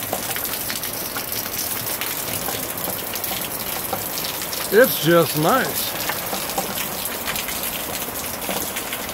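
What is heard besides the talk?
hard rain falling on a garden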